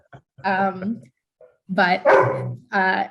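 Dogs bark and yip in a home during an online talk, several loud, close bursts of barking separated by short pauses.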